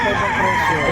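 A rooster crows loudly and close at a Padre Garcia, Batangas livestock auction market, one harsh sustained call amid crowd noise and nearby voices.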